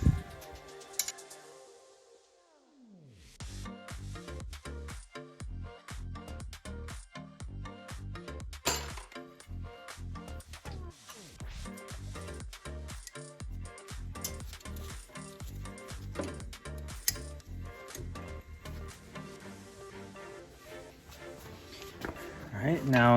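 A 14 mm wrench works the caliper bracket bolts on an Acura NSX during a wheel bearing replacement. A long run of quick, close metallic ratchet clicks and clinks follows a short quiet opening.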